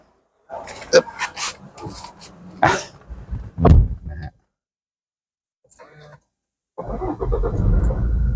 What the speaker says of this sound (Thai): เดี๋ยวขออนุญาตขึ้นรถสตาร์ทแล้วก็ ดูออปชันฟังก์ชันฟังเสียงเครื่องกันต่อดีกว่านะ